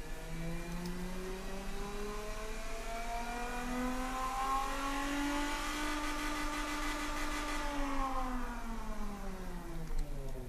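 Simulated engine of a 2015 SUV in the game Automation, muffled by reverse-flow mufflers, revving steadily up in pitch then easing back down, moderate and smooth, alone without talk.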